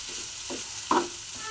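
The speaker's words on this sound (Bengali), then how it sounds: "দেখুন ভাজা ভাজা হয়ে গেছে এটা" Broccoli and potato fry in a pan with a soft, steady sizzle, broken by a few short scrapes and knocks of stirring, close and fairly quiet.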